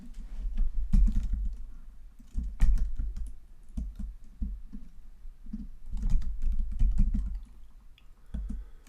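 A name is typed on a computer keyboard in bursts of quick, close key clicks separated by short pauses, with no talking.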